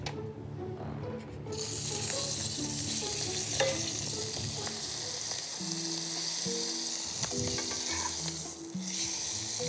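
Cuttlefish searing in smoking-hot oil, a loud, dense, continuous sizzle that holds steady for several seconds, with a few light knocks and pressing sounds, no voices.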